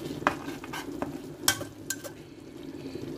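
Macaroni and salmon stirred in a pot: soft scraping swirls with a few sharper spoon knocks against the metal over a faint sizzle, close and moderately quiet, no talk.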